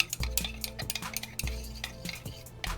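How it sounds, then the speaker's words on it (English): Homemade body wash with surfactant stirred gently by hand, making a steady rhythm of soft low thumps and light clinks of the utensil against the container, close and fairly quiet. "When you add your surfactant to it, make sure you mix it gently to avoid excess foaming."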